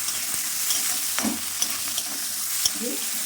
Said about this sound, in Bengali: ফোড়ন পেঁয়াজ কুচি লঙ্কা কুচি দিয়ে দিলাম